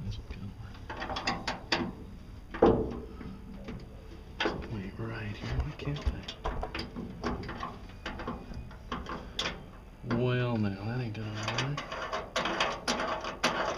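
A wrench clicks and ratchets on a bolt while a car hood is installed, giving short bursts of metallic clicking and clanks interspersed with nearby talking.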